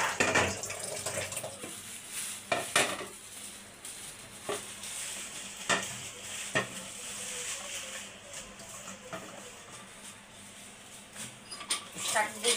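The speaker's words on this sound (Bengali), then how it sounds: "শাকগুলি ধুয়ে নিতে আসি।" Potato greens are washed under running tap water, with splashing and irregular bursts of water against the leaves and sink. A voice talks faintly in the background at times.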